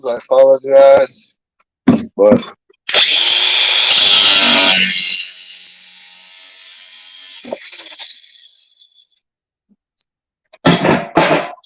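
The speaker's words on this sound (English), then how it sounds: "Let's grab my grinder." A grinder bites into copper and brass scrap, giving a loud, harsh, close burst of about two seconds that trails off into a fading whine as it spins down, with someone talking before and after.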